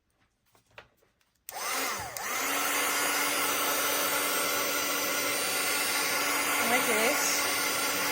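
A hot air heat gun runs steadily for several seconds, drying small pieces of colored card paper; a loud continuous blowing hiss starts abruptly after a brief spoken phrase and holds even to the end.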